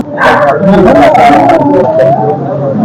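A stray dog barks and yelps repeatedly amid a murmur of people talking nearby in a town street setting, loud and close.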